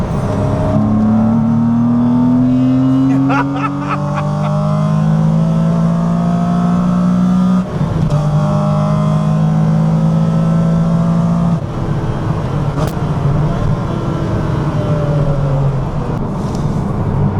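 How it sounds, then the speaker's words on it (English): A Porsche Cayman fitted with a 3.8-litre 911 engine climbs through the revs in long, rising howls, briefly dropping between gear shifts before pulling high again, loud and close. "when you get high up in the revs, boy does this car sing"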